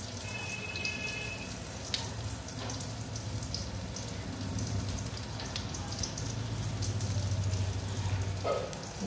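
Dried red chillies and whole cumin seeds tempering in hot oil for a vegetarian bottle gourd and red lentil dal, giving a steady close sizzle and crackle that runs throughout with a few sharper pops and no talk.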